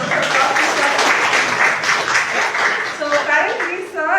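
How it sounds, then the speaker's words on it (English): Audience applause for a personality development trainer at a team-building talk, steady clapping throughout that fades slightly toward the end as a voice begins to speak. "So a round of applause to Sir."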